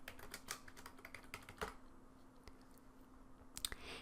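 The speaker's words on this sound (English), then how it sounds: "I'm going to type Aunt Lucille." Rapid, faint typing on a computer keyboard, a quick run of soft clicking keystrokes, then a short pause and a few more taps, with no talk.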